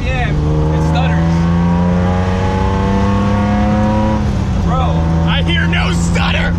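A drift car built from junkyard parts holds a steady, loud, buzzing engine note around 4,000 RPM. The tone wavers and briefly stumbles partway through, then settles back into a sustained drone.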